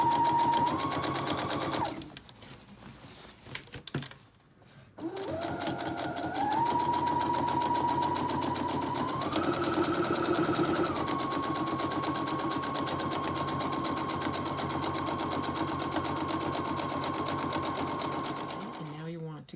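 A sewing machine stitches a blouse facing flat, running in close, steady bursts that change speed with a short pause early on, while a person talks briefly over it.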